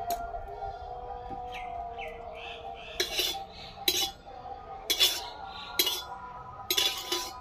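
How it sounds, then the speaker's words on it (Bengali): A metal wok is set down on a kitchen stove burner while spinach with egg is being cooked, giving several sharp metallic clinks and knocks spread over a few seconds against a quiet room background. "আবার কড়াই বসিয়ে দিলাম উনানে।"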